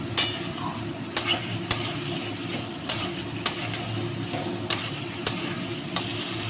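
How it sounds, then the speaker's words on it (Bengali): Potato and pointed gourd being stir-fried in spice paste in a pan, giving a steady low sizzle with sharp spatula scrapes and clinks recurring about every half second to a second, close and moderately loud, with no talking. "এবার আমি আলুটা আর পটলটা দিয়ে নিচ্ছি। মশলার সঙ্গে একটু সুন্দর করে কষে নেবো।"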